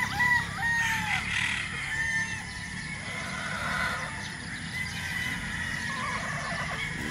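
J.M. Fantastic bulik gamefowl hens and roosters crow on a game farm, several birds overlapping at a distance over steady outdoor background noise.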